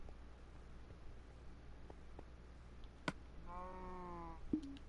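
A sheep in the Minecraft survival game gives one clear harmonic bleat near the end, preceded by a few faint clicks and a sharp tap over a steady low hiss.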